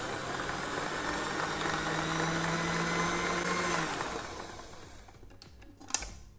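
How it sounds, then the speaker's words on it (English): A stand mixer whisks Swiss meringue buttercream with a steady, fairly loud motor whir for about four seconds, then winds down and stops, leaving a couple of sharp clinks near the end. "And then just give it an extra whisk."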